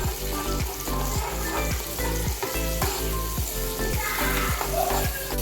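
Spice paste with turmeric frying in oil for urad dal, a close continuous sizzle with a regular rhythmic knock of stirring underneath.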